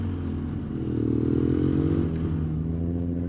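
A BMW F800 motorcycle accelerates in first gear, its engine note rising and swelling into a louder revving drone before easing off, heard close with no talk.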